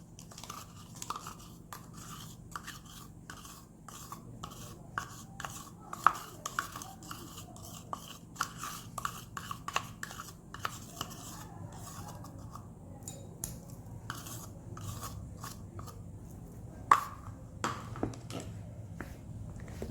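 Homemade half-cast whitening body lotion being stirred in a container, giving repeated soft scraping and clicking strokes at an uneven rhythm, close and fairly quiet, with no talking.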